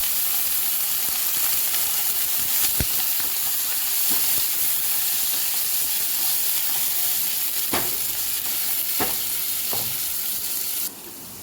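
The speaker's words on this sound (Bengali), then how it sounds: "আলুটা ভেজে নিই।" Potatoes fry in hot oil, with a loud, continuous close-up sizzle and crackle and a few sharp pops or stirring clicks, and no voices.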